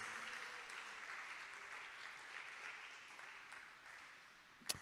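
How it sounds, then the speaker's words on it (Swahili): Sustained applause from a church congregation praising Jesus, a dense, steady clatter of many hands that holds evenly throughout and ends on one sharp, louder clap. "Ongeza makofi kwa Yesu"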